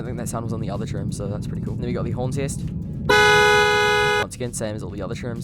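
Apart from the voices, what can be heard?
BMW X5 car horn test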